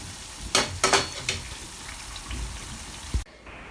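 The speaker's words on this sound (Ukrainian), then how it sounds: "ось так вони смажаться" Eggplant slices fry in oil in a pan over low heat, giving a steady, soft sizzle up close. A few louder crackles and spatters come early, and a clunk near the end cuts the sound off abruptly.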